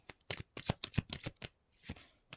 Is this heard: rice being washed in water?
no